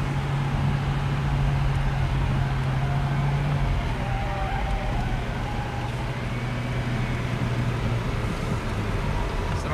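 A Fiat Uno Turbo accelerating through a curve, a loud continuous engine drone with a steady tonal hum and road noise, heard from inside the car.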